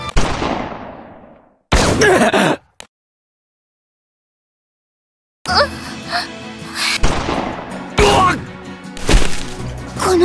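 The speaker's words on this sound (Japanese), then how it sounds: "銃声は。" Gunfire in the Granblue Fantasy game, heard as a burst of sharp, loud cracks followed by further clustered impact bursts after a silent gap, with a decaying echo at the start.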